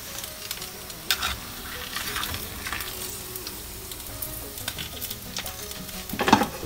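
A pork chop fries in a hot pan of oil, giving a steady crackling sizzle broken by sharper pops and spits, with a louder burst of spatter near the end and no one talking.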